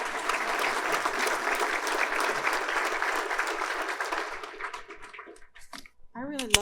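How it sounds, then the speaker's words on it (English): Audience at a United Way Everyday Heroes community event gives a sustained round of applause for a woman returning to the stage; dense clapping holds steady before thinning out, then a brief voice speaks at the end. "How about a great big round of applause for her?"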